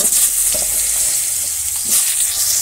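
Potatoes dropped into plenty of hot oil in a village kitchen crackle and sizzle loudly and continuously, a dense close frying hiss with soft stirring movement.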